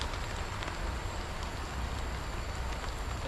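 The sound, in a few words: rain falling on tarp camp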